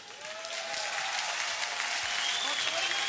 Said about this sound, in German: Und das ist der Applaus vorweg schon mal